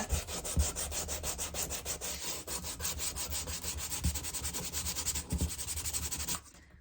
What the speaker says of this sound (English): I'm just going to take the sandpaper and give it one last go over.